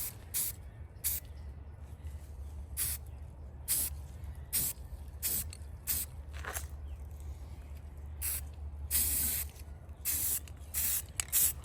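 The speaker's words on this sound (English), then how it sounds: "I really like the sound of spray paint." Short hissing bursts of a spray paint can spraying primer, repeated at irregular intervals over a steady low hum, close by.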